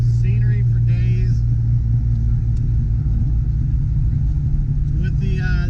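A 1992 Ford Mustang GT cruising in third gear on winding Tennessee roads, its engine holding a steady low rumble throughout, with brief speech over it near the start and again near the end.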